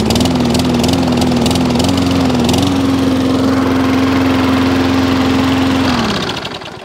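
A lawn mower engine runs loud and close at a steady, droning pitch, then winds down and fades near the end.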